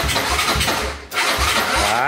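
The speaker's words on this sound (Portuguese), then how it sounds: "a moto não tá querendo nem ligar, velho" A Honda Today motorcycle engine cranks repeatedly without catching, a rhythmic churning starter sound with a short pause midway, loud and close, while a voice speaks over it.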